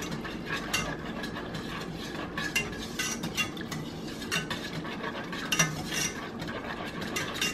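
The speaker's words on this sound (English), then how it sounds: "And you're just going to whisk that." A whisk beating chicken stock into gravy in a pan, rapid irregular metallic clicks and scrapes against the pan over a continuous swishing, close and moderately loud, without voices.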